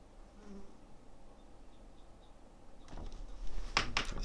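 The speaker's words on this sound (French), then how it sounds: "c'est une mouche" A housefly buzzes near and then away, the droning rising and fading over a few seconds with a louder close pass toward the end, alone without talk.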